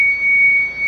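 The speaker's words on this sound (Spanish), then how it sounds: "Nos acaban de abrir la caseta con una previa alarma." A steady, piercing electronic alarm tone at a highway toll booth as the gate opens, loud and continuous for the whole moment.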